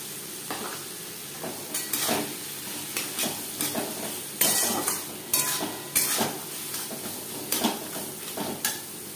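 Taro leaves with grated coconut being stirred in a pan over medium flame, with repeated scraping strokes of a spatula and a soft sizzle, close and irregular, alone without talk.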